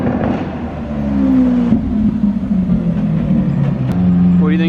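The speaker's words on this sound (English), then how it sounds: "Got a 458 just pulled up." A Ferrari 458 and a Lamborghini Aventador pull up nearby, their engines giving a loud, close mechanical drone with a rising whine near the end.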